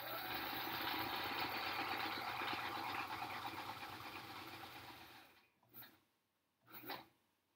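A sewing machine runs steadily while stitching quilt blocks into a strip for a sampler quilt. The whir stops after about five seconds, and two short bursts of stitching follow.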